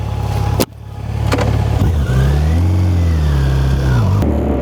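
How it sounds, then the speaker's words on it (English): A motorcycle engine revs up and settles into a strong, loud drone after a sharp knock, the pitch rising and falling through a rev with a steady low rumble close to the microphone. "And people can now go for a motorcycle ride."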